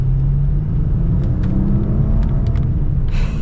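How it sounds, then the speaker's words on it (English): Maserati Ghibli GranLusso V6 exhaust accelerating, a steady loud low rumble that holds throughout, with a brighter rising swell near the end. "Gosh, it sounds so good. I love this V6. Maserati, their exhausts are just the best."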